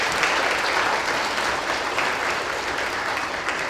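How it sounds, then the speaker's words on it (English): A church congregation applauds during a Sunday morning service, with dense, continuous clapping filling the room evenly and steadily from start to finish, no voices over it. "So let's give them a round of applause for that help."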